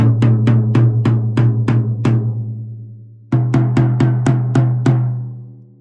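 A 14 by 14 inch floor tom struck in two runs of about seven even hits, each boomy, resonant stroke ringing out with a deep sustained tone, loud and close, with a brief pause between the sets.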